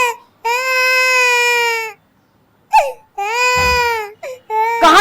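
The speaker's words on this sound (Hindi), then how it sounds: "तुझे बहन के रोने की आवाज नहीं आ रही?" A baby girl crying in long, loud, tonal wails broken by short gasping pauses, the sobbing cries repeating close by with a whimpering catch between them.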